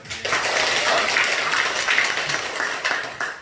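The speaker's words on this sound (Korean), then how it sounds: "그래서 우리 이창복 집사님 박수 한번 주세요." A church congregation at a Sunday service claps together in a steady, moderate burst of applause lasting a few seconds, with no talking over it.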